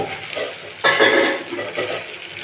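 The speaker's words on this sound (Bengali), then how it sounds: "এই দেখো ভাজা হচ্ছে, আরও যতগুলো বাকি ছিল সব কটা ভেজে নিচ্ছি।" Bombay duck (loitta) fish pieces frying in hot oil, a close, loud sizzle that surges as more pieces go in, with faint stirring clinks.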